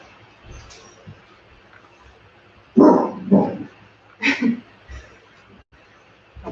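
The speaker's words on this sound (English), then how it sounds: "She's just sort of barking that today." A dog barking in another room during a home workout, two short pairs of sharp barks at moderate distance with a quiet background between them.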